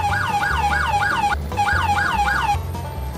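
Video game police car siren on a farm truck, a loud, close electronic wail rising and falling in quick repeated sweeps, with one short break and a low engine rumble underneath.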